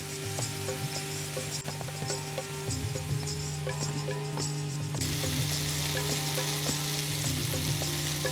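Chicken Afghani tikka pieces sizzle steadily in butter in a pan over a low flame, a continuous close frying crackle with occasional scraping and turning sounds, no voices.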